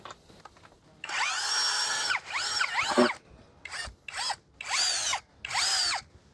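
A Huber HBD2116 Pro Gen2 brushless 21V cordless drill runs in a series of short bursts. Its whining motor pitch rises as each burst starts and falls as it stops, close and clear, with gaps of quiet between runs.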